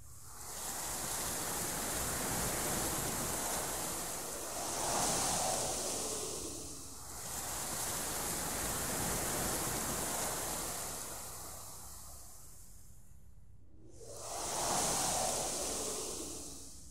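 Steady, hollow wind blows through a phone line, rising and falling in slow surges like rushing air, moderately quiet and continuous without any voices.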